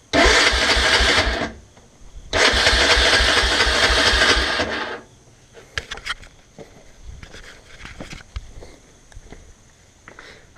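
A Honda 300 Fourtrax ATV with a 317 big bore kit cranks over in two long, loud electric starter bursts but does not catch, followed by quieter clicks and workshop handling noises.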